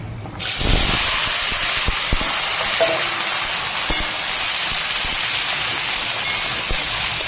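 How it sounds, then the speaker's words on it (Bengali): Washed vegetables hitting hot oil tempered with cumin, dry chilli and ginger, a sudden loud hiss that settles into steady sizzling close by, with a few faint clinks. "এবার আমি এখানে ধুয়ে রাখা সবজিটা ঢেলে দেবো"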